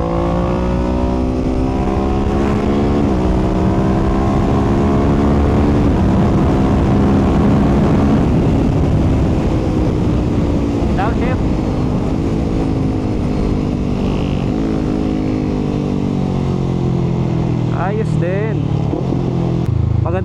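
Kawasaki Ninja 650 motorcycle, 2020 model, riding under load with its engine droning loudly and pitch sweeping up and down through quick-shifter gear changes, wind rush throughout.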